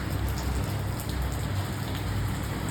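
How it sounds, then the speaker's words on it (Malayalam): Steady rain falls outdoors around a building by a parking area, a dense, even hiss of drops on hard surfaces with a low rumble underneath, constant and close throughout with no voices. "മഴയാണ്."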